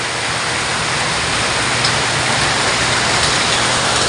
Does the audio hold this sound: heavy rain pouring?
yes